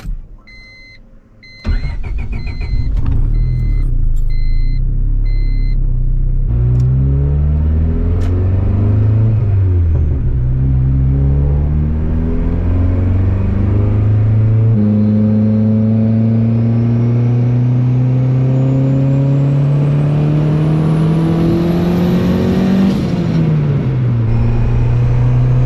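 A turbocharged Honda Civic on a boost run, engine cranking to life then revving and accelerating hard up through several gears, loud and close with rising and falling engine tones, no talking.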